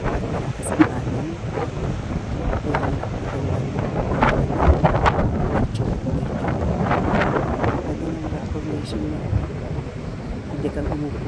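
Strong wind at a seaside rock formation in New South Wales, Australia, a steady rushing buffet of noise with faint surf beneath and a voice speaking over it.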